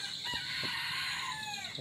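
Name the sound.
rooster crowing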